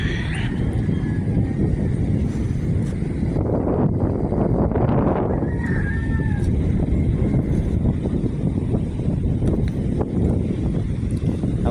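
Strong, cold wind buffets the microphone outdoors in a steady, loud rumble, with a brief gust swell midway and faint distant sounds behind it.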